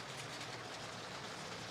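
A yellow and blue LEGO City toy passenger train runs along its track, giving a quiet, steady, continuous rolling rattle with no talking.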